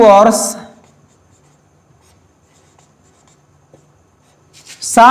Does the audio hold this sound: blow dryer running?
no